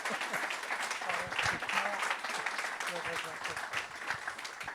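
Audience applause fills a hall, a steady wash of many hands clapping at moderate level, with voices talking over it.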